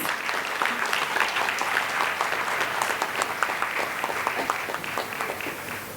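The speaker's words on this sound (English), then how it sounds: "I request all the members of the audience to please welcome Dr. R. Chidambaram with a huge round of applause." Applause at a youth and nation-building conclave in India, steady crowd clapping of moderate loudness that continues evenly across the whole stretch.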